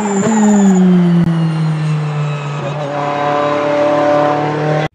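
Race car engine effect for a toy race car, a loud sustained high whine with shifting revs and a brief tire squeal, running steady throughout with no speech.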